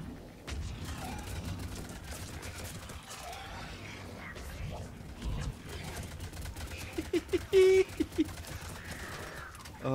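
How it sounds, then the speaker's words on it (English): Explosions and gunfire in Mass Effect 3 multiplayer, a reactor map with four Adepts, boom and crackle in irregular bursts over a low rumbling game soundscape, with a few sharper clicks and chirps late on. "Explosions everywhere."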